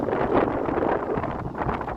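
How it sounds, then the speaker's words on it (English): Steady, blustery wind buffets the microphone with a dense, rushing roar that barely lets up over the two seconds. "even though it's windy as hell"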